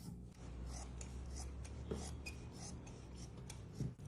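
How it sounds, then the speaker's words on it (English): Scissors cutting through old denim jeans: a run of rasping, crunchy snips, close and fairly quiet, repeating at an even pace with no talk. "I marked here, look, 22 centimeters. And let's cut it."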